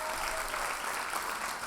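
Brief, steady round of applause from the audience at a nursing candle lighting ceremony, moderately quiet and continuous throughout.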